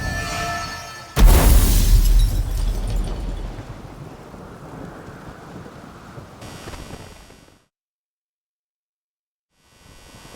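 Thunderstorm in The Witcher 3: a loud thunder crack bursts in and rolls into a steady wash of heavy rain, which fades to sudden silence before a faint return of noise at the end.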